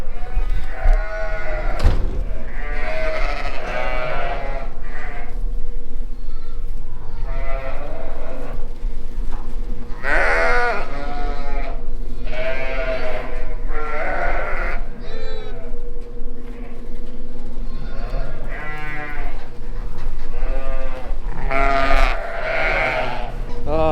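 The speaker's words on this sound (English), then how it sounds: "I got so many sheep in here" A barn full of ewes and newborn lambs, with loud, close bleats overlapping in frequent bursts throughout.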